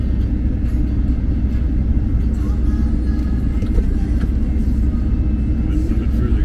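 A camper rumbles along slowly while being pulled over and parked, its engine a loud, steady low drone with road rumble throughout.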